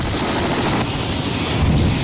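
A Kamov forest-firefighting helicopter roars loud and steady at close range, its engine and rotor noise filling the whole stretch without a break.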